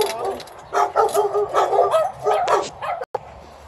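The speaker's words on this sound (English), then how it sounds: "there's a friendly dog" A dog in a kennel gives a run of excited yips and barks, near and loud, in quick repeated bursts with brief whimpering tones.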